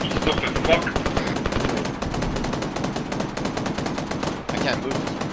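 Rapid automatic gunfire fills a tactical video game firefight, a dense, continuous burst of machine-gun shots at close range, with faint voices underneath.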